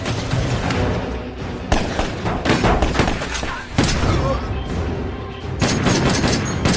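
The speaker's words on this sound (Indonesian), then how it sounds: "disusul dengan beberapa orang bertato yang menembaki John." Rapid gunfire crackles in dense, overlapping volleys with heavy thumps and booms, loud and continuous with a faint voice underneath.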